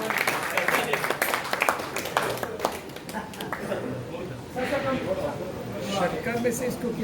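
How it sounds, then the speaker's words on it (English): An audience at a sports journalists' awards ceremony in Mumbai claps, with sharp bursts at first and a looser patter later, mixed with voices and talk throughout. "can I have a big round of applause for Jemi sir"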